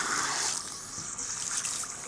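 Running water from a salon basin rinses tint off a client's hair, a close, steady hiss and spray with slight shifts as the flow is moved.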